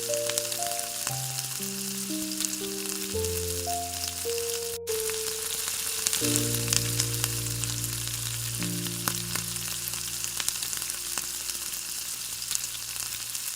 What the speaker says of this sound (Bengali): এবার সব একসাথে ভালো করে কড়াইতে মিক্স করে দিচ্ছি